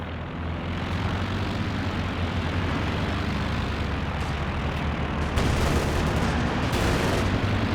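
Anti-tank planes attacking in the Company of Heroes 2 strategy game: a steady aircraft engine roar with dense gunfire and artillery rumble underneath, growing slightly louder near the end.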